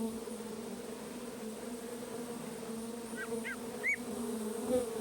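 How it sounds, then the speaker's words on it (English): Honeybees buzz softly in the North Woods as they gather nectar, a faint, steady outdoor drone with a few brief chirps from other creatures on top. "Honeybees are preparing for the frigid season ahead, building up their supplies of sweet nectar."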